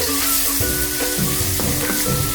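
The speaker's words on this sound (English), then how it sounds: "So continue stirring." Garlic sizzles loudly in a pan over medium heat while being stirred, a dense close crackle with repeated scraping strokes throughout.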